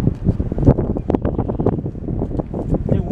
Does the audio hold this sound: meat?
no